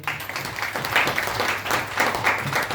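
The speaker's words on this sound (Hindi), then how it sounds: "उसके बाद जोरदार ताली हो जाए इस प्रोडक्ट के लिए।" Audience at a product presentation for a Parinaam product giving a round of applause, moderately loud clapping in uneven waves for under three seconds.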